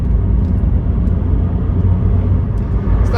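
A Rover Streetwise with a replaced exhaust cruises at about 60 mph, a loud, steady cabin rumble of engine and road noise with no break.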